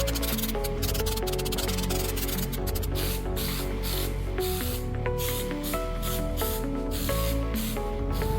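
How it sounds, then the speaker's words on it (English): Spray putty hisses from a can onto a motorcycle tank being repaired for a dent, in a steady run of short repeated bursts, close and fairly loud, with no voices. "I can spray on 4 to 5 coats of my spray putty"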